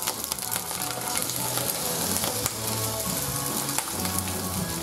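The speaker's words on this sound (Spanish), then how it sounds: "ya está el aceite hirviendo, vamos a bajar un poquito el fuego" Hot oil sizzles and crackles steadily in a pan while lobster stew is being prepared, a dense, close, continuous frying hiss with occasional louder pops and stirring, no voices.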